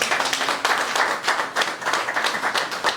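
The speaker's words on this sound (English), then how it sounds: "A round of applause for him." Round of applause from a group at a staff training session, a brisk, fairly dense clapping with individual hand claps audible, steady for the whole stretch and moderately close.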